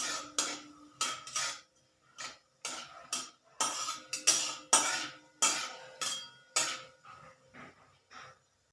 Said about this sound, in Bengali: একটু জিরেটা নাড়াচাড়া করে একটু হালকা ভেজে নেব জিরেটা